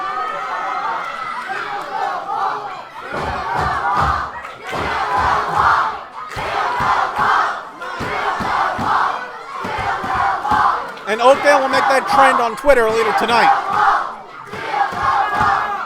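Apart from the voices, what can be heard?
wrestling crowd cheering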